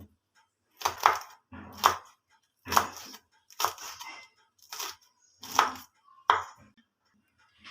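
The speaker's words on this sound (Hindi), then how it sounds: "इस तरह से हरी मिर्चें हमने ली हैं 3 से 4, इनकी भी हम कटिंग कर लेंगे बारीक इस तरह से।" A knife chops green chillies finely on a board, about seven sharp, separate bursts of quick strokes with short pauses between them, close and clear with no talk.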